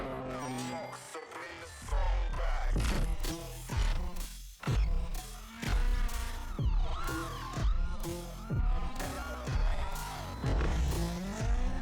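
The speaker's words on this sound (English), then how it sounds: "Yes, he's drifting, which I hope it's just as smooth as Underground 2." Car drifting in the video game Need for Speed Unbound, with a revving engine and repeated squealing tire slides rising and falling over thumping music-like hits.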